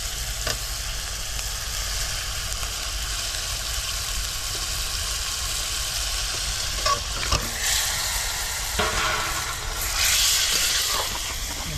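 Tilapia fish fry with green chilies and spices in a hot pan, a steady dense sizzle with spatula scrapes and a few louder bursts of hissing, close and without talk.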